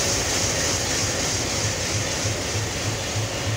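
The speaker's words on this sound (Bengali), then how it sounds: "আপ চিলাহাটি না, আপ বরেন্দ্র এক্সপ্রেস।" The Up Barendra Express departs Parbatipur station in Bangladesh, giving a steady, fairly faint rail rumble with soft, rhythmic low thuds from the wheels.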